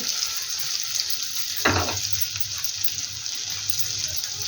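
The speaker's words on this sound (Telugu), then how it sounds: "ఇలా పొంగేటట్టు ఆయిల్ మంచిగా మసలాలన్నమాట." Hot oil bubbling and frying vigorously in a pan, a steady close hiss with a brief burst of louder crackle partway through.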